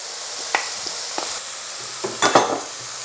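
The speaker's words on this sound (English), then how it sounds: "Now might as well go in with the garlic." Garlic sizzles in hot oil for a chicken curry, a soft constant hiss broken by a few utensil scrapes and a louder burst of stirring near the end.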